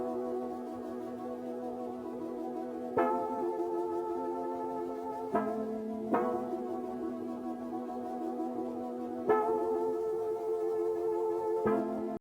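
An analog synth key patch called Epiphany playing a slow chord progression, with sustained, harmonically rich chords changing every couple of seconds, each new chord starting with a soft attack and ringing on clearly with no other sound.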